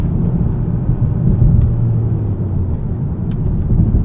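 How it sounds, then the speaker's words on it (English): A 2024 Hyundai Sonata N Line with an 8-speed dual-clutch gearbox driving, heard from inside as a loud, steady low engine and road rumble with a faint rise in pitch, no clear separate shift events. "Nice quick shifts from this dual clutch as well."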